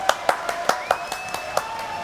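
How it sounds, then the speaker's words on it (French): A studio audience on a French television game show claps in a steady, evenly spaced rhythm of sharp claps, with a faint tonal hum running underneath. "applaudissements"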